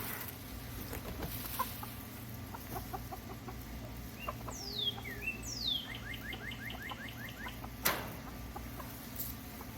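Hens cluck and chirp as they are fed treats in a farmyard, a scatter of quick, repeated calls and rising squawks at moderate distance, faint over a steady low hum, with no voices.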